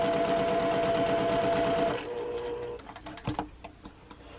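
A sewing machine runs a quarter-inch seam on a quilt block, a fast even mechanical whir for about two seconds that then stops, followed by a few quiet handling taps and fabric rustles.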